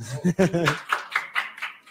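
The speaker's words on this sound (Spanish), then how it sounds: "Aplausos." A brief voice opens, then a handful of sharp, close claps of applause follow at the launch presentation of Martin Audio's Wavefront Precision series, spaced out and fairly loud.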